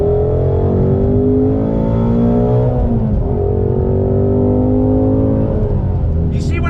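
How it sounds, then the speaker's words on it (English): A 2020 Ford Shelby GT500 pulls away from a light on throttle, its loud engine note climbing through the revs and then dropping at a gear change before rising again, heard from inside the car. "pulling away from the light, like I said, that clutch pickup is just perfect"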